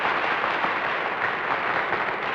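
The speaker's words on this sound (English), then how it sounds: "Applause." A 1958 television game-show studio audience claps steadily throughout, a dense, even wash of applause with no pauses.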